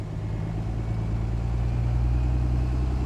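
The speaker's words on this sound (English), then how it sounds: "the engine is definitely a little bit clackier" A Cummins diesel engine in a limousine idles steadily nearby, a low rumbling drone with a faint clattering texture, no voices.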